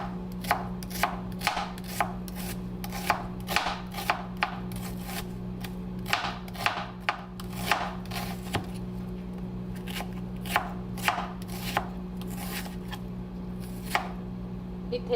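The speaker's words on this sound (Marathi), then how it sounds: "कसा हवा तसा तुम्ही कापून घेऊ शकता. जरा वेगळी सुरी घेते म्हणजे पटापट होईल आपलं काम." A knife chops onion on a board while making ghevda (flat bean) bhaji, a steady series of crisp, close cuts with short pauses over a low kitchen hum.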